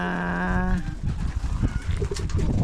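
Pigeons coo and flutter at a pigeon loft where a young bird returns to its mother, with a clear sustained call at first, then scattered fainter rustling and cooing close by, with no talking.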